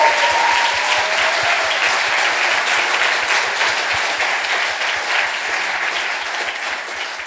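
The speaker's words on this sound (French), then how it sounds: "je pense qu'ils méritent tous encore quelques applaudissements" Strong, continuous crowd applause filling a hall at an evening event with a jury, dense clapping alongside a regular low thumping beat, gradually easing toward the end.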